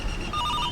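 A telephone ringing in a South Indian movie scene, a short electronic ring tone that starts partway through and holds steady over a background hum.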